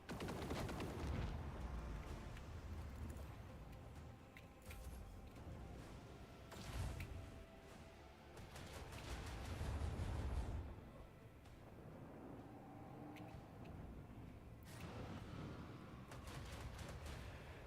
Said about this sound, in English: Initiate the barrage! Deploy torpedoes!